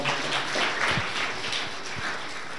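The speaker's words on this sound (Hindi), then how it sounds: "तो इनके लिए ज़ोरदार तालियां हो जाए।" An audience in a class or seminar hall applauds, a dense wash of clapping that holds steady for a few seconds.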